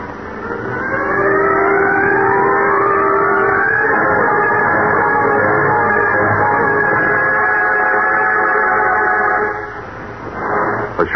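A car engine revs and accelerates away in an old radio drama, its pitch climbing steeply over a couple of seconds and then holding a loud, steady drone before fading out abruptly near the end.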